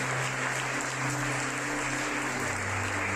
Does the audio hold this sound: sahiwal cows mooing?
no